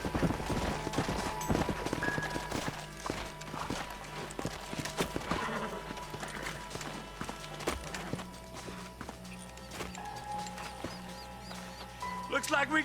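Horse hooves clip-clop repeatedly in Red Dead Redemption as riders approach the old Pleasant's house, the steady beats mixed with talk, a whinny and other game sounds.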